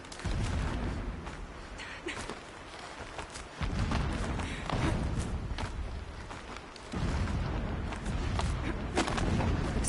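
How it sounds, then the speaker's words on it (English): Low, rumbling booms of explosions roll in at intervals in the video game Horizon Zero Dawn, muffled and far off, with a steady background roar between them. "Explosions in the distance."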